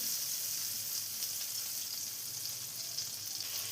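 Butter and sunflower oil sizzle in a hot pan for a paneer mushroom masala, a steady, soft, bright hiss that holds evenly throughout with no voices.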